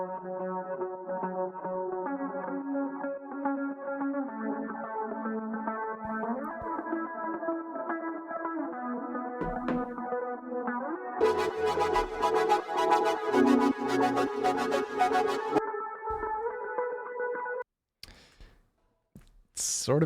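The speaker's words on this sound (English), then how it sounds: "It's like that surfer rock guitar, but with a whole bunch of delay and reverb and stuff like that." Surf rock style electric guitar groove drenched in delay and reverb, with sustained echoing chords layered over a steady instrumental bed from a pop remix; it thickens midway, then drops out briefly near the end.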